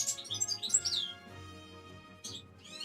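A nearby bird chirps loudly in quick bright bursts of tweets, pausing briefly before another flurry, heard indoors over a faint background hum.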